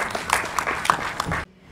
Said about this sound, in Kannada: ನಾವು ಚಪ್ಪಾಳೆಗಳ ಮೂಲಕ ಜೊತೆಯಾಗೋಣ